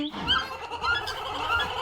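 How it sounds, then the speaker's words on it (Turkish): Parrot call from a Minecraft animal mod, a series of bright, warbling chirps and squawks repeating in short bursts, close and clear over a faint background. "Bunlar değişik, bunlar değişik bir papağan."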